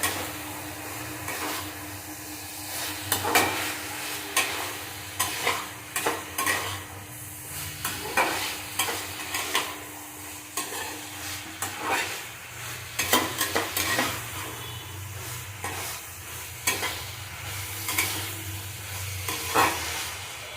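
Shrimp frying in a pan with banana flower, with a continuous soft sizzle broken by frequent scraping stirs and utensil clicks against the pan. Quiet and close, with no speech.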